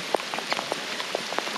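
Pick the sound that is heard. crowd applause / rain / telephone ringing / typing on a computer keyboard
rain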